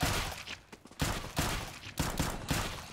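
Bursts of gunfire in Counter-Strike: GO zombie mode, with several loud volleys of rapid shots about half a second apart over steady background game noise and no speech.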